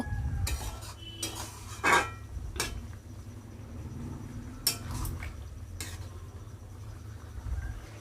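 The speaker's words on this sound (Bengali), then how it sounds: "এর মধ্যে আমি পনির ভাজাগুলো দিয়ে দিলাম দিয়ে পনির আর এই আলু একটু কিছুক্ষণ নাড়াচাড়া করব" Fried paneer and potatoes stirred in a pan, with irregular metallic clinks and scrapes of a spoon against the pan over a low bubbling simmer, with no voices.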